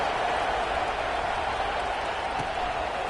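Steady broadband crowd roar filling a college football stadium in the NCAA 26 video game during a USC versus Oregon matchup, a constant dense buzz of noise with no distinct peaks, heard alone at moderate level.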